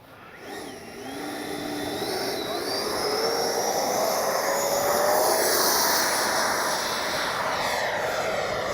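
A Freewing Avanti S V2 RC jet takes off, its electric ducted-fan whine rising steadily in pitch and loudness as it accelerates and climbs away, holding a strong continuous roar with no talk over it.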